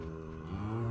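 Cow in the video game Minecraft giving a single low, drawn-out moo that swells toward the end, heard alone at moderate volume.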